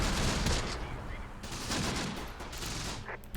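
Machine gun fire in the Close Combat World War II strategy game set in the Italian hills, heavy overlapping bursts of automatic gunfire and distant shots forming a continuous loud fusillade.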